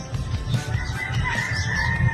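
Native chickens cluck and murmur close by in a steady low chatter, with a faint crow or call rising in the background.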